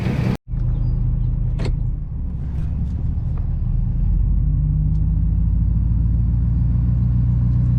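A 2024-or-newer 6.7 Powerstroke diesel truck with a 587 whp tune, hauling a trailer, pulls away as a steady low engine rumble holds close and loud for several seconds, with a brief drop near the start.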